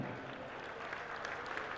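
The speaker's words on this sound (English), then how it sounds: "Give both young men a big round of applause in the centre ring." Brief burst of audience applause for two young boxers in a centre ring at a trophy night, a dense, steady patter of clapping from a sizeable crowd.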